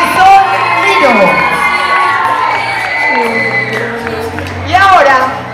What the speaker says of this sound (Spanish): Vamos despidiendo con un fuerte aplauso a Miss Huntington, Marisol Lino.